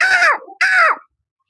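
A human voice imitates a crow with two loud, harsh caws in a row, close and alone, followed by silence.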